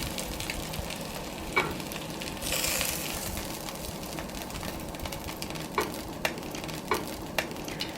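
Chicken pieces browning in a frying pan for chicken Marsala, with a steady close sizzle and crackle and a few sharp pops and spatters scattered throughout, no voices.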